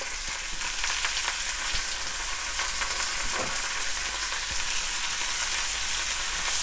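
Onions and garlic sautéing in a pan for paneer kuzhambu, a steady close sizzle and crackle of frying with occasional stirring scrapes, continuous throughout with no talking.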